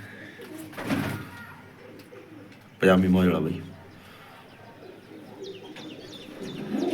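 Pigeons coo softly in the background while someone talks nearby, his voice rising over the birds in short bursts.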